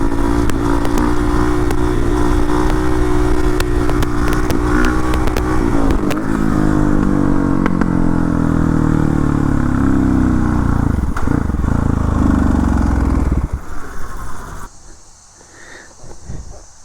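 A new bike on its first ride, its motorcycle engine revving hard and loud for a long stretch, close to the rider, with wind noise, then dropping away to a quieter idle near the end.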